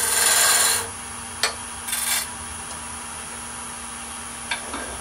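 A skew chisel trues end grain on wood spinning on a lathe, with a loud rasping cut for under a second, then a few brief scraping touches over the steady motor hum.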